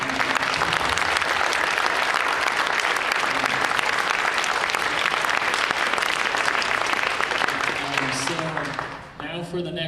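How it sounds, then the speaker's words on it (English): Applause for political candidates at a county meet-the-candidates event, a dense, sustained clapping from a crowd that fades near the end as a voice begins speaking. "And another round of applause for all of our candidates."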